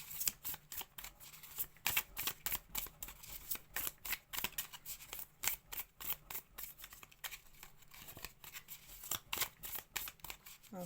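Tarot cards are shuffled close up in a steady run of crisp riffling flicks, one quick papery burst after another, with no voices over them.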